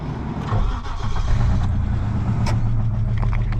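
Mitsubishi Montero cranking and starting, a short rough churn that catches into a steady low idle with a few clicks and knocks, close and loud.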